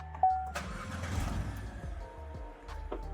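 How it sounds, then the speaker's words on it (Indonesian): A 2016 Chevrolet Spark LTZ with a 1.4L engine cranks briefly and catches, then settles into a smooth, steady idle heard close up with no talking. "kalau terdengar suara mesinnya cukup halus"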